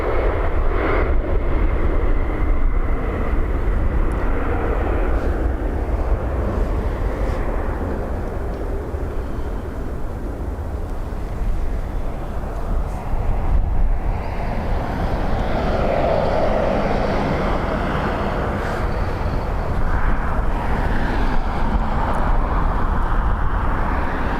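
Airliner arriving in strong wind at Dublin Airport: a loud, continuous jet engine roar that swells and recedes over the whole stretch, with gusty wind rumble and no talk.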